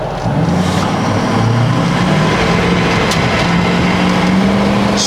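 Diesel truck pulling hard on a two-wheel-drive run, a loud, steady engine roar with rising harmonic tones that climb through the whole stretch, no voices.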